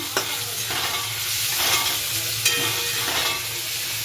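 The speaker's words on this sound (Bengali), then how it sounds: "টমেটো দিয়ে নাড়াচাড়া করতে লাগলাম" Tomato stirred into a ginger-garlic-chili-onion paste in a frying pan, with a steady close sizzle under intermittent scraping stirs of the spoon, no talking.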